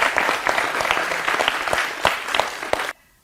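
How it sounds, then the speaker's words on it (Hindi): Studio audience applause on a Hindi cricket talk show about the India versus Pakistan T20 World Cup, brisk clapping from a modest crowd with sharp individual claps that cuts off abruptly into near silence. "इसके लिए जोरदार तालियां"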